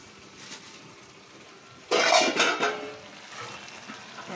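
Mutton keema sautéing in a pot, a low hiss and sizzle joined by a sudden louder scraping burst of stirring partway through that fades back to a steady background sizzle.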